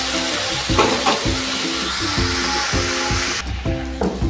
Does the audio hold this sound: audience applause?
no